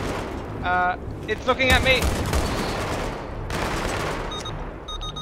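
Tank cannon and machine-gun fire in Battlefield 3 co-op play, with loud bursts and booms over a rumbling battlefield bed while players talk.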